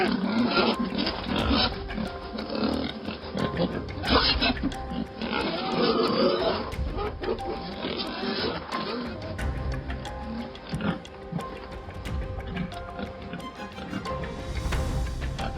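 Trapped wild boars on a Korean farm grunt and snort in a dense, continuous jumble, loud and close throughout, with overlapping squeals and rough guttural calls.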